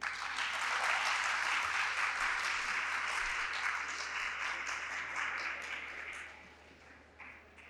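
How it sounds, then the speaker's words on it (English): Sustained audience applause fills a conference hall at an international literature conference, a steady dense wash of many hands clapping that holds strong for several seconds before gradually thinning and fading out near the end. "A big round of applause for Mr."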